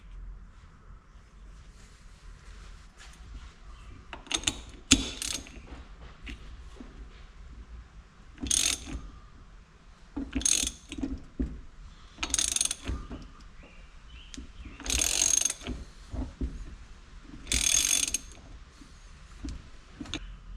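Ratcheting wrench work threading an old nut onto a new differential for a Ford Mustang Formula Drift car, heard as repeated clicking bursts of ratchet and metal mechanism sounds at close range, spaced every few seconds.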